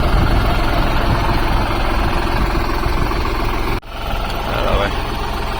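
A tractor engine runs at a steady loud idle beside a chickpea thresher in a farm field, a continuous low rumble with one brief dip.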